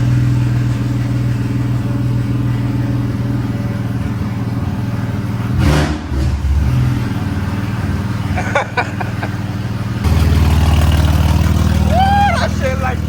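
A BMW F80 with a short shifter and its exhaust removed idles loudly and steadily, the raw, throaty engine note rising briefly near the end, with people talking over it.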